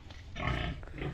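A pig grunts in its pen on a farm, low rough grunts close by over dense background noise, with no talking.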